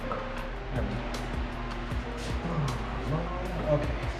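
A fan runs steadily in a garage while bicycle handlebars are installed, a constant broadband hum with a low drone sitting under speech throughout.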